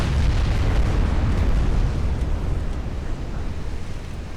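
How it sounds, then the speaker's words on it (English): A salvo of 13-inch naval guns roars out in the Ultimate Admiral: Dreadnoughts warship game, a heavy sustained boom with deep rumbling low end that rolls on for several seconds and slowly fades. "Need to land a major hit with this next salvo from the 13s."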